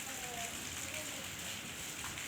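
Heavy rain pours steadily on surfaces in a village during cool, stormy weather, a dense continuous hiss with close patter and no pauses; a voice speaks faintly over it.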